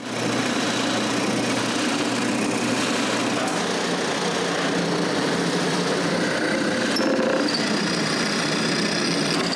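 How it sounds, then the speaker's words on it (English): A power drill bores holes through the middle of lamp shade pieces for a lithophane lamp, a steady, loud, continuous whine with a slight shift in pitch near the end and no talking. "Now I can drill a hole in the middle of each piece."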